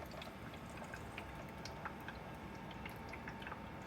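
A newly set-up humidifier runs with a faint, steady hiss and soft watery gurgling and dripping, continuous and quiet throughout with no talking.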